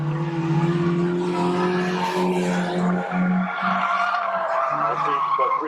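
Stock cars racing around an oval track, engines roaring and tires squealing continuously as cars pass close by, with a race commentator's voice running underneath.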